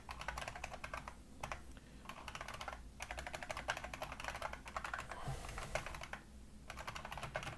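Steady, close computer keyboard typing while a C++ program is written, with rapid bursts of keystrokes broken by a few brief pauses and no talking.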